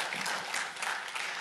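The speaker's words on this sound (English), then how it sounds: "Give him a great big hand clap of praise." A church congregation gives a hand clap of praise during a worship service, steady dense clapping that holds evenly throughout at a moderate, somewhat distant level.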